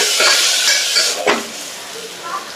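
Onions being sautéed in a pan for mutton kola urundai give a loud hiss and sizzle, with a few short stirring scrapes that fade a little toward the end.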